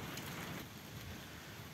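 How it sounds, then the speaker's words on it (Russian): Tropical downpour in the Moscow region, easing off into a steadier, gentler rain: a dense, continuous hiss of rainfall close by, with no talk over it. "Сейчас немножко притих, и такой тихий, спокойный дождячок."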